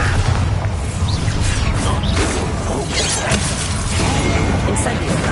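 Bombarda explosion spells go off in Hogwarts Legacy, a loud, dense run of booming, shattering crashes and whooshes with no quiet gaps.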